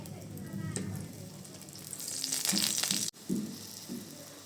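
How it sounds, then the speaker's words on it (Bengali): Paratha frying in hot mustard oil in a frying pan, a loud close sizzle that builds and crackles steadily, with a brief cut and low voices talking underneath. "তেলটা গরম হয়ে গেছে, এখন আমি দিয়ে দিচ্ছি পরোটাটা।"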